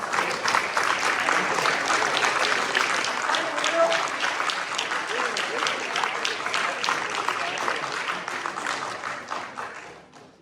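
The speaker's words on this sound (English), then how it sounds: "Give these students a round of applause." A school audience gives sustained applause for graduating seniors at a senior awards ceremony, a dense, loud wash of clapping that holds steady for about ten seconds before tapering off.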